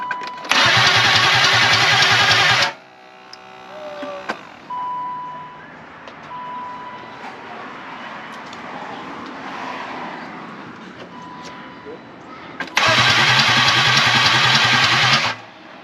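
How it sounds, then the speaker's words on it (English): A BMW E34 Touring with a swapped-in M50 engine cranks in two loud, steady bursts of starter whir at the start and end, and the engine never catches; quieter rustling and faint tones fill the gap between the bursts. "Try cranking it, Jacob."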